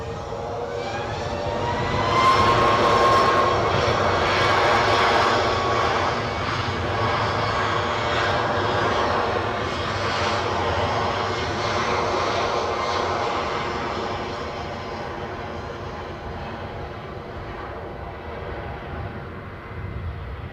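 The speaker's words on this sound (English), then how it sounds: "Hear those idling 757s? Well, not quite idling," Boeing 757 jet engines near idle, spooling up at Edinburgh airport, give a steady, loud, broad roar with a whining tone that swells early, then slowly eases and holds for the full stretch.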